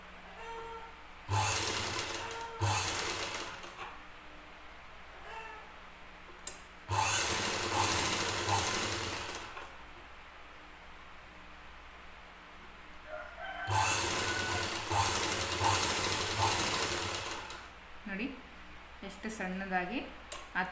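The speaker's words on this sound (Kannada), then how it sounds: "ಡಬಲ್ ಫುಟಲ್ಲೇ ಥ್ರೆಡ್ ಫೈಪಿಂಗ್ನ ಈಸಿಯಾಗಿ ಸ್ಟಿಚ್ ಮಾಡ್ಕೋಬೋದು" Sewing machine with a double foot stitching thread piping onto a blouse, running in three bursts of steady mechanical whirring separated by quieter pauses, close by, with a faint voice near the end.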